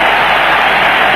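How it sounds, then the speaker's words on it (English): A cricket stadium crowd at a 1993 one-day final between India and the West Indies gives a steady, dense roar that fills the whole moment without a break or any distinct voices. "The crowd begins to find its voice again."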